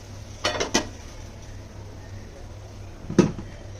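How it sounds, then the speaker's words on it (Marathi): A metal lid set down on a cooking pot of prawns simmering on a low gas flame in a home kitchen: two quick close clinks early on, then a single sharper clatter a few seconds later, with quiet hum between. "थोडं झाकण ठेवते वर"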